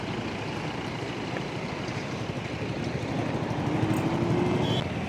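City road traffic at a signal: a dense, continuous rumble of idling and moving engines, including heavy vehicles, growing slightly louder near the end, with no voices.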